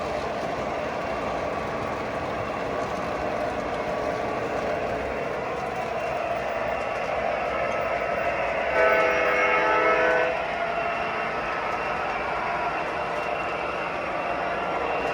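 A model Norfolk Southern train with a caboose runs past on its track, making a continuous rumbling rattle. A brief whistle-like tone rises near the middle, and there is no clear talking.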